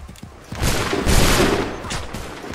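A volley of musket fire erupts in Assassin's Creed 3, several loud overlapping gunshots crackling in a ragged burst that swells, peaks and fades within a couple of seconds.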